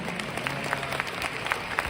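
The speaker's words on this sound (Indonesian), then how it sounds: "Kita pantas beri tepuk tangan meriah untuk Riway Internasional." An audience at a Riway International business seminar gives a short burst of dense, steady applause, many hands clapping together at moderate distance.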